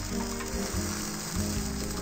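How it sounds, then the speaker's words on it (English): A carrot searing in a hot pan in a cooking video game, a loud steady sizzle with crackling, close and continuous, with no talk over it. "Sear the carrot in there, let that carrot caramelize."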